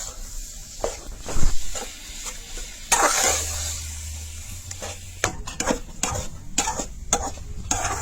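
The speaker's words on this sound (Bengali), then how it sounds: "ওরকম লাড়াচাড়া করলে গুড়টা গলো।" A spoon stirs jaggery as it melts in a little water in a pot, giving irregular scraping and knocking strokes with a brief low simmering hum partway through.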